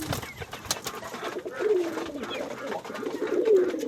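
Domestic pigeons coo softly in a loft, with repeated low, throaty calls rising over a light background rustle and a few scattered chirps.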